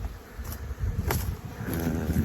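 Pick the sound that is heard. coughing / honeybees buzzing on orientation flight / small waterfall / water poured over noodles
honeybees buzzing on orientation flight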